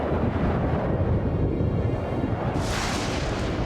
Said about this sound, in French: Mais quel orage!